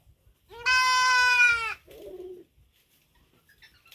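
A goat on a farm gives one loud, close, drawn-out bleat lasting about a second, followed by a shorter, lower bleat, then quiet with faint rustling.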